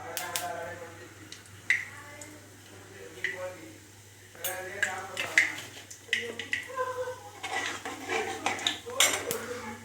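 Cumin seeds going into a pan for frying, with clinks and taps of a metal spoon against the pan in irregular bursts, close by, while a person talks over it.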